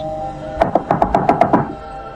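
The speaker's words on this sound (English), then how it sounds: "It didn't take too long before the knocking came again, this time much louder and more frantic." Loud, frantic knocking on a door, about eight rapid, evenly spaced hard knocks in a close burst, with no voices.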